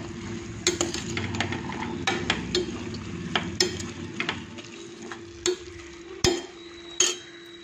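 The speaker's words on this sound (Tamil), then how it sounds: "இப்போ நான் வதக்கிட்டு" Vegetables including potatoes sizzle in a hot pan for vegetable biryani while a utensil scrapes and clanks against it in irregular strokes, close up with no talking.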